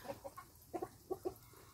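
Soft, nearby clucking of chickens in short paired bursts, with quiet gaps between calls and no talking.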